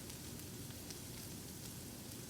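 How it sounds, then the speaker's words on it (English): Bacon sizzling in a pan, a faint, steady crackling hiss with small pops scattered throughout, heard alone. "My bacon's cooking up."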